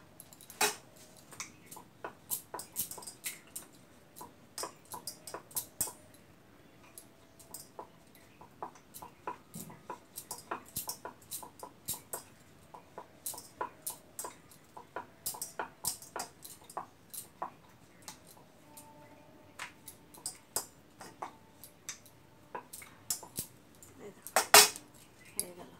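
A rolling pin works flour dough on a board, giving soft, irregular clacks and taps that come in quick bursts with brief pauses, faint and close, with no talking.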